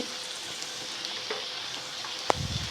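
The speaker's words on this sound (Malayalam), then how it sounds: "ഇത് നമുക്ക് നല്ലപോലെ ഇളക്കി അതിൽ മസാലകളുടെ പച്ചക്കുത്ത് മാറുന്നത് വരെ നമുക്കൊന്ന് ഇളക്കി കൊടുക്കാം" Prawn masala with chilli powder, pepper powder and asafoetida is stirred in a frying pan, giving a steady close sizzle with soft scraping strokes and one sharper clink near the end.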